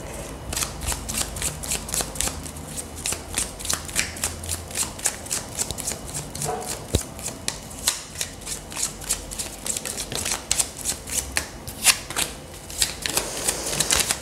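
Tarot cards being shuffled by hand, a steady run of crisp papery riffles and taps close up, with no talking.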